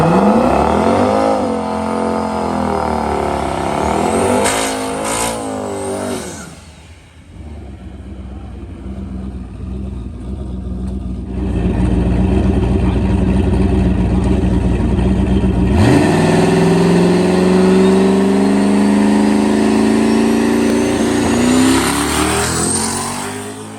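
A drag car revs hard and launches down a quarter-mile strip. The engine roars at full throttle, drops briefly near the middle, then surges again in a loud sustained scream that rises in pitch.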